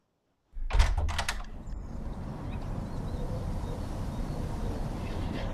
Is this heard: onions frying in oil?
no